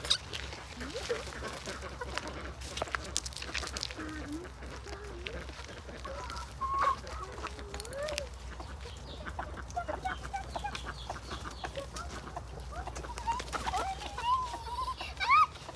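Chickens cluck and murmur steadily at close range, with scattered louder calls over a busy farmyard background while people talk nearby.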